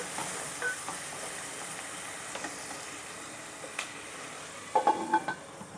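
Onions fry in a pan for an eggplant tamarind curry, a quiet, steady sizzle with a few soft scraping stirs and light clicks of a utensil toward the end, no voices.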